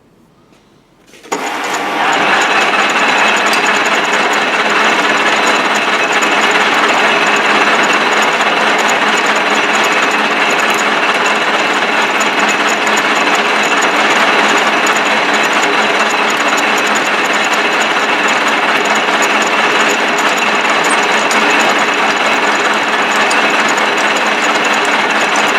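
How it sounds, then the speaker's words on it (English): A power drill starts abruptly and runs continuously at a loud, steady whine, grinding through metal without pause for over twenty seconds. "we're going to drill through here all the way through this"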